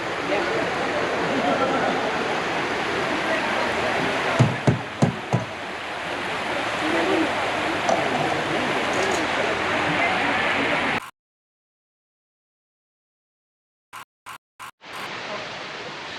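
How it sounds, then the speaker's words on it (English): A mountain river in the Smoky Mountains rushes steadily as a close, broad hiss. A few knocks come partway through, then a sudden cut to silence and brief choppy bursts before the flow noise returns. "Just listen to the sound of the river, it's great."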